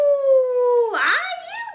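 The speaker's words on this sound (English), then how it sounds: "The monster looked down with a horrible howl." A monster's horrible howl effect in a children's Yeti story: one loud, drawn-out howl lasting about two seconds that holds a steady pitch and then dips and wavers into a rough, whining tail.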